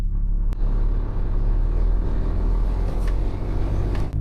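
A large truck engine rumbles steadily while driving, a deep continuous low drone heard close up with no speech, holding an even level throughout with only brief dips.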